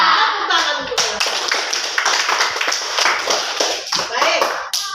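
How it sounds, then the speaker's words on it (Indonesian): A class of sixth-grade pupils claps hands together, a brisk rapid burst of many hands clapping near and loud, with children's voices calling out over it. "Tepuk tangan untuk mereka."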